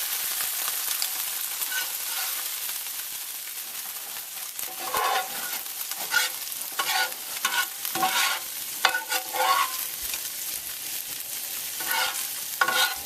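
Onions fry in a pan, cooked until translucent, with a steady sizzle broken by repeated scraping stirs of a utensil that grow busier midway, close and fairly loud, with no talking.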